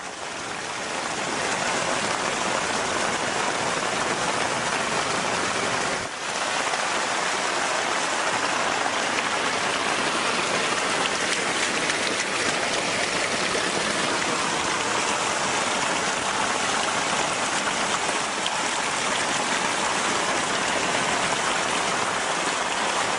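Flood water rushes through a housing subdivision in a steady, loud, dense wash that holds continuously with no speech, close and unbroken throughout.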